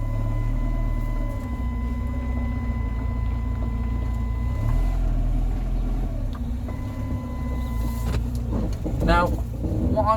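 A Rover 45 Impression S3 with a faulty CVT gearbox driving along, giving a steady low engine drone with a thin constant whine above it and some talk over the cabin noise.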